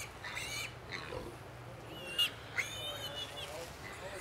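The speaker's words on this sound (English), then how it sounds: "The squealing you're hearing here is from these piglets." Piglets at an agricultural county fair give off high, faint squeals in short bursts, a couple of sharper squeaks standing out over low background noise.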